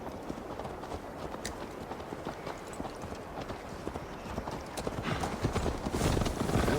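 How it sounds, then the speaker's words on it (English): Horse hooves clip-clopping at a steady galloping rhythm while riding in the video game Assassin's Creed Valhalla, continuous and close, growing slightly louder toward the end, with faint background voices. "Mount up, Eivor. It's a long ride to Tamworth."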